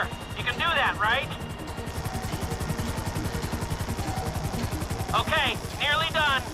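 A helicopter hovering in Grand Theft Auto V, its rotor thumping steadily and loudly throughout, with a constant high whine and brief game voices and chirps breaking in near the start and end.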